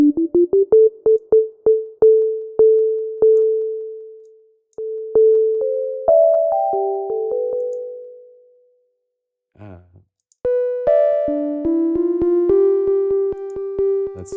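Pure synthesized sine tones from a software sampler, played as a run of clean sustained notes that step up and down in pitch, with short plucked attacks, a brief gap, then a higher held passage.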